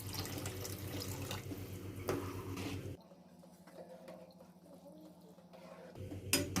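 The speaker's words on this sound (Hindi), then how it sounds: "और पानी ऐड करेंगे इसमें" Water is poured into a pot of cooking chickpea curry in a short, steady splashing stream with a clattering start and finish, close by and moderately quiet; no one speaks.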